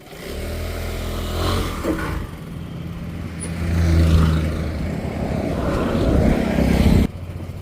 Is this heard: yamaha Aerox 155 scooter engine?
yes